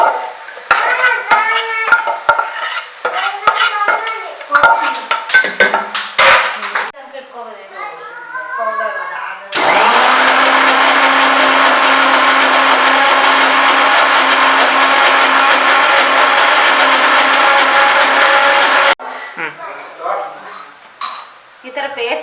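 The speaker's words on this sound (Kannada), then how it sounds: "ಇಲ್ಲಿ ಫ್ರೈ ಮಾಡಿರೋ ಮಸಾಲೆನ ಪೇಸ್ಟ್ ಮಾಡ್ಕೋತಾ ಇದ್ದೀವಿ" A mixer grinder whirs steadily for about ten seconds as fried masala is ground into paste for Mandya-style mutton sambar, with clattering kitchen sounds and talk before and after the loud, even motor run.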